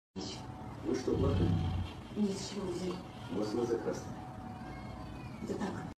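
A cat meows several times in a row, fairly faint and close, with someone speaking Portuguese over and between the cries.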